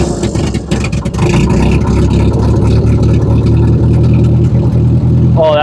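An International 300 utility tractor engine run on choke, a loud, close, steady mechanical roar that holds at a constant level, with a brief rising whine near the end.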